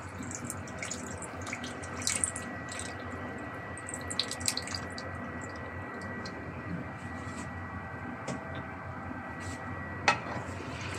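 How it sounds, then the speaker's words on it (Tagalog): Pineapple juice pours in a steady liquid stream into a pan of pork humba, a continuous close splashing trickle with a few small clinks along the way. "Lalagay na natin guys yung juice ng pineapple."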